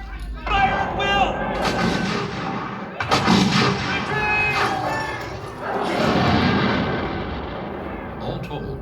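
Light infantry fire muskets in a battle. Heavy booming shots overlap in rolling volleys that echo and decay, with voices faintly mixed in.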